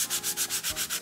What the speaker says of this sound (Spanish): yo voy a lijar, debo lijar con una lija suave